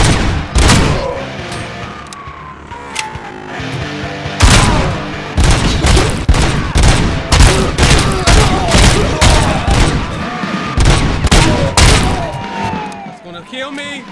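SMG gunfire in Robocop Rogue City, rapid sharp bursts in quick succession, loud and close, mixed with impacts and booms while someone talks over the action.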